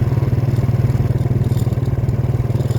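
A vehicle driving home along a road at night makes a loud, close engine drone with a fast, even throbbing pulse that holds steady throughout.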